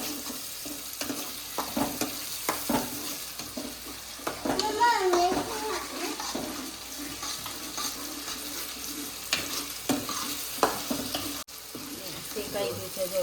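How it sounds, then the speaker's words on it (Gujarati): Ginger-garlic paste frying on low heat in a pan for kaju masala, a soft steady sizzle with occasional stirring and scraping clatter, up close, while people talk nearby. "આ બધું ધીમા તાપમાને આપણે ફ્રાય કરવાનું છે."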